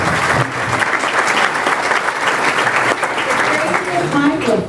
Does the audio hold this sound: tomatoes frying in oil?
no